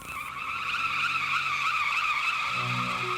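Car tires screech in a sustained, tonal squeal through a sharp drifting turn, steady and fairly distant, with a low engine drone rising underneath toward the end.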